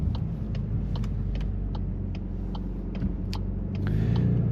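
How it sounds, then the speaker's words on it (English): A 2025 VW Golf R engine drones low and steady from inside the cabin, with its dual-clutch transmission clicking through quick shifts and the revs swelling slightly near the end. "As you can see, the dual clutch transmission is lightning fast."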